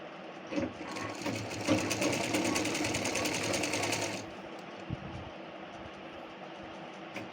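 A sewing machine stitches a blouse strip with a fast, rhythmic close-up whirring that runs for several seconds and then stops, followed by quiet handling noises.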